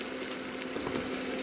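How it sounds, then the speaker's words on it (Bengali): Onions frying in a pan for a Bengali potato curry, a steady close sizzle with crackling that holds through the whole stretch, no voices. "পেঁয়াজটা ভালো করে ভেজে নিতে হচ্ছে"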